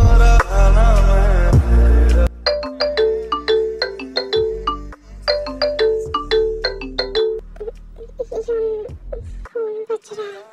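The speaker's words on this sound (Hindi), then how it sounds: "फोन बज रहा है।" A phone ringtone plays a bright, repeating electronic melody of short notes, loud and close, then stops near the end.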